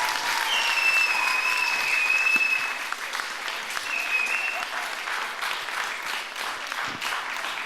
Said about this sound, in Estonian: Teeme suure aplausi neile